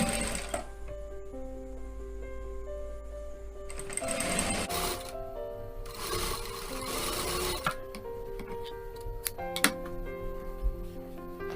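Sewing machine stitching a princess-cut blouse, running in continuous rapid mechanical bursts with steady whirring and ticking, close and fairly loud.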